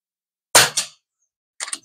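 A budget PCP air rifle fires slugs in two sharp, loud reports about a second apart, each a short broadband crack with a quick echoing tail, the second shot softer and more broken up.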